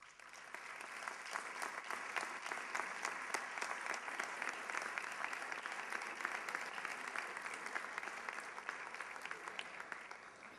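A church audience applauds during a Holy Week proclamation in Isla Cristina, Spain: sustained, even clapping from many hands, moderately distant and filling the whole stretch with no voices over it.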